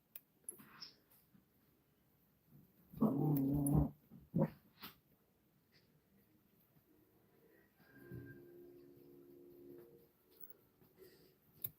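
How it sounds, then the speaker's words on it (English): Dogs in a room where fishing jigs are being tied, a short loud burst of barking or growling around the middle, then a softer low whine or rumble later, otherwise fairly quiet. "I think all the dogs are in here, Matt."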